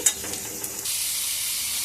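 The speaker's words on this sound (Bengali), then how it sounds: "ডোমো ডোমো করে কেটে রাখা আলুটা সর্ষে ফোড়ন দিয়ে একটু লাল করে ভেজে নেব" Diced potatoes frying in oil with a mustard-seed tempering for a bottle gourd curry, a steady close sizzle that starts with a few stirring clatters and then settles into an even, continuous hiss.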